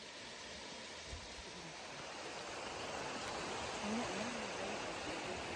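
Waves wash steadily onto a white sand beach at Hornby Island, a soft continuous surf roar with no distinct breaks, fairly faint and distant.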